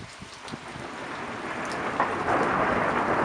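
Thunderstorm over the Bay Area, with steady heavy rain and a low rolling rumble of thunder that swells and grows louder toward the end, with no voices over it.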